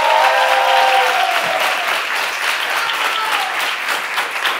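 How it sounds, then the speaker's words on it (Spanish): Audience applauding a performer named Quiquillo at a live show, loud sustained clapping with a few whoops mixed in. "le deis un aplauso a mi compañero Quiquillo"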